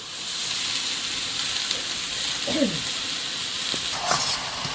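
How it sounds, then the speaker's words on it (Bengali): Greens go into a pan of lightly fried shrimp with chopped garlic, salt and turmeric, giving a steady close sizzle and hiss with a few faint clinks of stirring. "চিংড়িটা হালকা ভেজে নিয়েছি এবার শাকটা দিয়ে দেবো"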